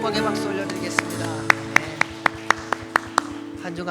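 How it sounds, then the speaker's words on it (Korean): A church congregation claps during a Sunday worship service, a run of evenly spaced sharp claps over sustained music and voices, then fading back to the music. "우리 주님께 감사와 영광의 박수 올려드리겠습니다."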